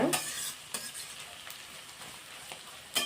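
Mixed vegetables with carrot are stirred in a sizzling pan. A steady frying hiss runs throughout, broken by several sharp scrapes of the spatula at irregular intervals, close and fairly loud, with no talking.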